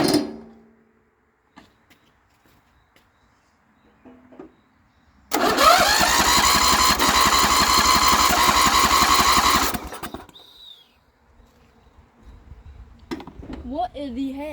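A lawn mower engine is cranked for about four seconds, a steady mechanical whirring that never catches and fires, then stops. Someone speaks briefly afterward.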